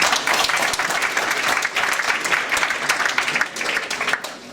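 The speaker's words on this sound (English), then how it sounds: "Please give him a round of applause." An audience at a live music concert applauds a percussionist: loud, dense, continuous clapping fills the whole stretch, steady and sustained with slight swells, no talk on top.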